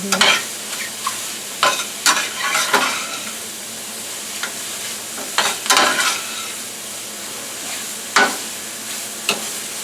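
French-cut green beans sauté in a pan with a constant sizzle, and a spoon scrapes through them repeatedly in short, uneven strokes.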